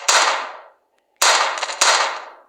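Three sharp gunshots in the video game Melon Playground, each a loud crack with a ringing decay, the first alone, then two close together after a short silence.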